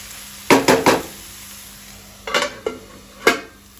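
Tomato and onion cooking in a pan get stirred with a spoon in several sharp metallic scrapes and clinks, first three quick ones, then a pause and three more, over a faint low hiss.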